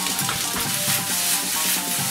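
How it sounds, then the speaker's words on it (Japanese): Cooked rice tossed all at once into a frying pan of hot salad oil over high heat for fried rice with minced ham, giving a loud, steady, dense sizzle with no voices. "強火にして一気にご飯を入れていきます"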